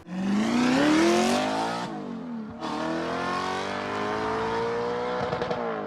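An Audi R8 engine breathing through a full custom 3-inch stainless steel exhaust with no silencers or valves revs loudly and climbs in pitch. It drops sharply as the throttle lifts midway, then pulls up again in a long, steady rise.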